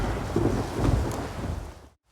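A thunderstorm in The Witcher 3: a low, rolling rumble of thunder over a steady wash of rain, dense and close, ending in a sudden cut to silence.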